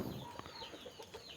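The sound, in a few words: chickens clucking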